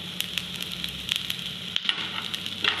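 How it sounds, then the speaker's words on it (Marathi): Onion, with capsicum being added, fries in a pan for kadhai paneer, making a steady close sizzle with scattered small crackles and pops throughout. "आता हा कांदा छान फ्राय झालाय आपला."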